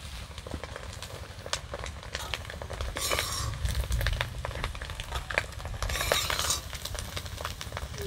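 Eggs fry in a pan for Bengali egg chorchori while a utensil scrapes and stirs them, producing soft, steady sizzling with intermittent clinks and scraping, faint and close.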